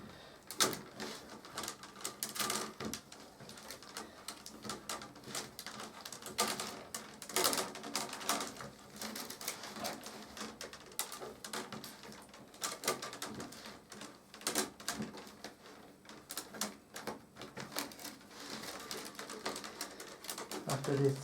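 Willow rods being woven in French randing, soft dry rustles and creaking taps in a quick irregular rhythm, close and quiet, with a faint bird cooing in the background.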